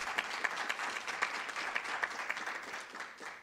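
An audience at a youth engagement event after a lecture gives a round of applause, a lively burst of many clapping hands that stays loud and even before easing slightly at the end.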